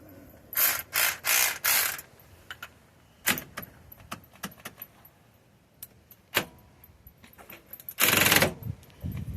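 A hand ratchet wrench turns a bolt while working on a mid-1980s Yamaha YFM200 Moto-4 ATV, giving rapid bursts of close, loud clicking, then scattered single clicks and clanks, and a final long ratcheting run.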